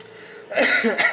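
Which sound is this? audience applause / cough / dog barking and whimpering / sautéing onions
cough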